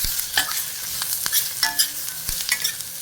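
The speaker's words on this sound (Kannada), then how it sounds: "ನೋಡಿ, ಇದು ಚೆನ್ನಾಗಿ ಹೀಗೆ ಹುರಿಯೋ ಥರ ಮಾಡ್ಕೊಂಡ್ಬಿಡ್ತೀನಿ" Green chillies sizzle in hot oil in a pan while being stirred for gooseberry thokku, a steady crackling hiss broken by sharp scrapes and clacks of the spoon against the pan, close and clear with no voices.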